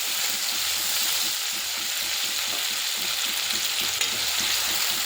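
Ground spice paste sizzles and fries in hot oil with cumin while a spoon stirs it in rhythmic scrapes, steady and close, for a cauliflower and potato dish.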